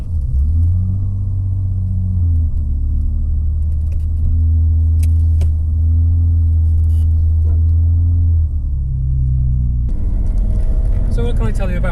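A BMW E30 fitted with a Miller Performance power-upgrade chip drives along, its engine giving a deep, steady rumble inside the car, with the tone shifting and growing busier near the end.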